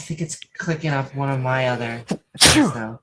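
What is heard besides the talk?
sneeze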